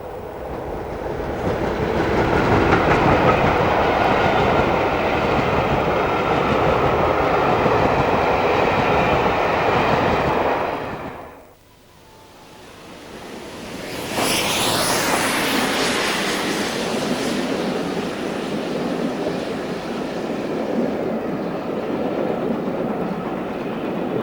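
A preserved British Rail class 33 diesel locomotive, 33021, runs past with a loud, steady engine roar that briefly drops away, then returns with a high whine and continued rumble.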